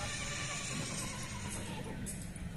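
A mare neighs and whinnies over steady outdoor noise as she walks slowly step by step, the call continuous and fairly close throughout.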